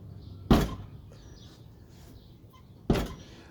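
A heavy, loosely hanging door closes twice, two sharp thuds about two and a half seconds apart, with faint bird chirps in the quiet between.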